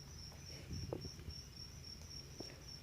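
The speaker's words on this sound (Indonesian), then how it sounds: "Ini jangkrik umur sekitar" Farmed crickets about two weeks old chirp in a steady, high, pulsing trill, close and continuous, with faint rustling and soft knocks beneath.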